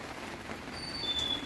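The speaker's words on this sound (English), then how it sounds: "It started raining." Light rain shower falling outdoors, a faint steady hiss of drops on surfaces with no talking, heard during a break from motorcycle repair work.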